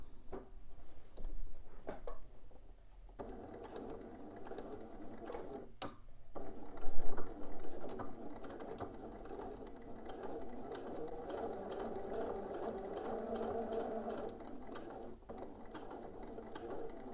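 Sewing machine running steadily while top stitching a bodice seam a quarter inch from the seam line, a continuous mechanical whir with brief pauses and one louder burst near the middle, no talking.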